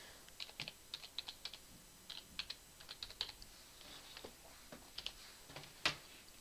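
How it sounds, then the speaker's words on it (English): A file name is typed on a computer keyboard in quick, faint, irregular clusters of light key clicks, close by and quiet, with no talk. "type in the name you want to be"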